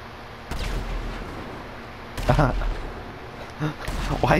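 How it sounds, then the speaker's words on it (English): Gunfire in GTA 5 Online at Fort Zancudo: several sharp, loud shots in irregular bursts with short gaps between them, close by over low background noise. "Why is he shooting at you?"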